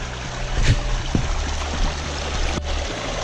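Steady rush of a small stream of melted snow water on a hiking trail near Devil's Punchbowl, close by, with a few faint knocks and splashes and no talking.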